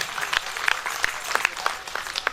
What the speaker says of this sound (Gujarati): તો આપણને આપણે સૌને તાળીઓથી વધાવીએ.